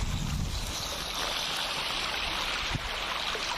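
Clear water flows along a river in a forest interior, a steady close rushing wash with one small splash near the end.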